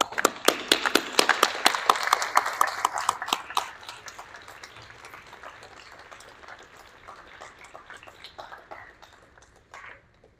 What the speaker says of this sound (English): give your parents and your teachers a round of applause